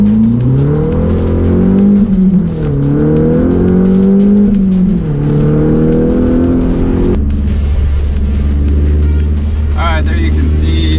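A Mazda Speed 3 with launch control accelerates hard through gear changes on a quarter-mile run, its engine note rising steadily then dropping at each shift, loud and continuous with a person talking over it.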